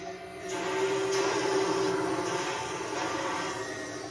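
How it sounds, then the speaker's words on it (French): Mechanical saws whir in a haunted carnival in the video game Roblox, a steady grinding drone with a sustained whining tone, fairly loud throughout. "il y a des scies"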